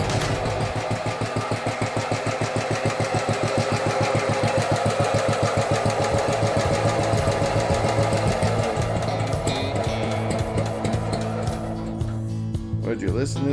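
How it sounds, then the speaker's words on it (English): An old B-10 engine runs after its first start in years, a loud, rapid, steady mechanical chatter that holds for about twelve seconds before its tone changes and falters near the end. "This does not want to stay running when it's not choked."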